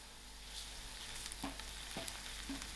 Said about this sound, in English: I will allow these onions to fry out soft